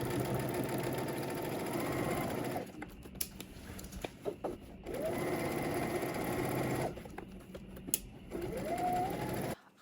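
Sewing machine stitching a 5/8-inch seam in runs of steady, close mechanical whirring, broken by short pauses with faint handling clicks and quieter gaps.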